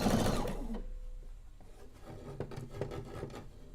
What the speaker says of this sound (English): Sewing right up to my pin.